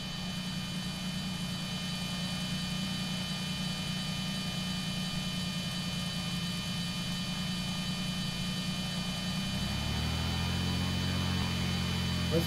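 Steady drone of a simulated Cessna 182 RG II piston engine in a flight simulator, a constant hum that holds evenly and then shifts to a deeper, slightly louder tone near the end, with no talking.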